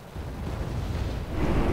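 Cannon fire from a Wargame Red Dragon special operations unit: a dense, continuous low rumble of explosive booms that swells louder toward the end, with no talking.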